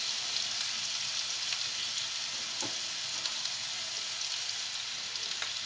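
Seafood filling with garlic powder and salt frying in a pan over high heat for stuffed courgettes, a steady close crackling sizzle with scattered pops and no talk.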